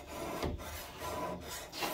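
A knife drawn across a wet whetstone from the tip, a series of soft, regular rasping strokes at close range, each stroke separated by a short gap, quiet and with no voices.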